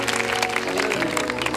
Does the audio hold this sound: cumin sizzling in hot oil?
no